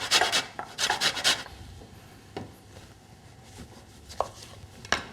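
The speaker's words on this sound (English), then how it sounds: "just finely grate the zest." Lemon zest finely grated against a grater, a quick burst of scraping rasps up close followed by a pause and a few isolated light taps and scrapes.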